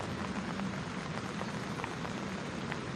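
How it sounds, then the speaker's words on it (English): Heavy rain pours steadily onto a golf course at Gimhae GAYA during a women's professional tournament round, a constant soft hiss with faint scattered drips and no voices. "the rain continues to bucket down on Gimhae GAYA"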